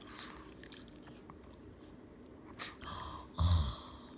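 A Shih Tzu dog eats watermelon up close, with quiet wet chewing and a couple of louder crunching bites near the end, heard alone.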